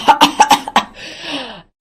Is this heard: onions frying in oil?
no